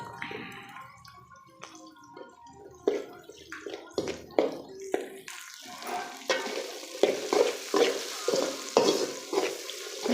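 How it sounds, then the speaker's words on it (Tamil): Onions with curry leaves sautéing in a pan while being stirred, a soft steady sizzle broken by repeated scraping and clinking strokes of a spoon, close and moderately quiet. "வெங்காயம் நல்லா வதக்கிக்கலாம் ஃப்ரெண்ட்ஸ்."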